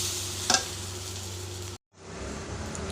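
Semolina is stirred continuously in a pan with a little water added, giving a soft close sizzle and a sharp clink near the start, a brief cut, then the sizzle resumes.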